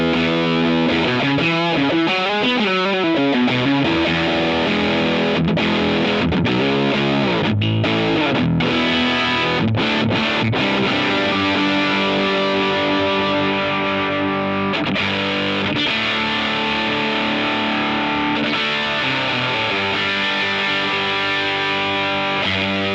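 Electric guitar played through a Boss DS-1W distortion pedal with the gain turned up, a sustained, saturated distorted tone with chords and ringing notes, loud and continuous with no talking.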